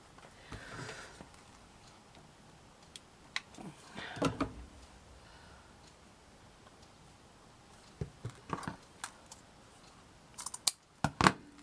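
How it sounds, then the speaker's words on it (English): Scissors trimming excess material off a handmade Christmas bauble, giving a few quiet, close snips and small clicks amid soft handling noises and sniffs. "And then I can trim that off there"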